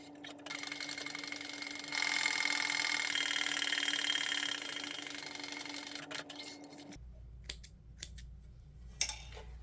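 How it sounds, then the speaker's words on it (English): A sewing machine stitches the seam of a messenger bag, running in a steady, fast mechanical whir for several seconds before stopping, followed by a few soft clicks and handling noises. "stitch together at a 1/2 inch seam allowance"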